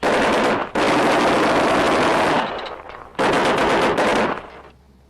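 Loud, close bursts of automatic gunfire rattle in two long volleys separated by a short pause, with the second burst trailing off into quieter echoing shots.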